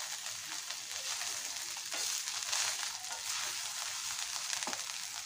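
Maggi noodles with egg and paneer frying in a pan give a steady, close, bright sizzle with a few louder crackling bursts, no voices over it.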